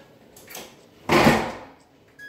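A metal tray scrapes and clanks as it slides out of an oven, a brief noisy rush of sound with faint rattles before and after.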